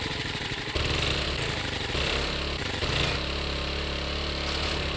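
Vehicle engine in the game 7 Days to Die, a steady mid-pitched motor drone that runs loud and continuous, with a sharp rise in intensity just after the start and slight surges in level.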